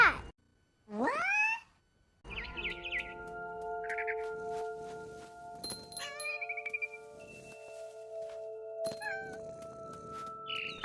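A cat in What Remains of Edith Finch gives several drawn-out, rising meows with quiet gaps between them, followed by game ambience with steady tones and occasional bird chirps.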